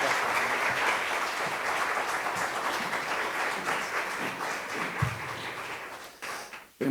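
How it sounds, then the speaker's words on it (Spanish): A congregation at a church gathering in Bucaramanga gives a warm round of applause for a welcomed missionary, a steady crowd clapping that holds evenly, then thins and fades near the end. "Lo recibimos con un fuerte aplauso."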